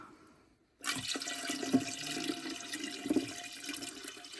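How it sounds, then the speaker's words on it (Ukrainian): Water splashes steadily into an autoclave, filling it to cover jars of fish in tomato sauce. The pour starts abruptly after a near-silent moment, then keeps up a continuous gush with a few louder sloshes. "приблизно йде півтора відра водички. Ось так, ще трішки, щоб покрилося банки"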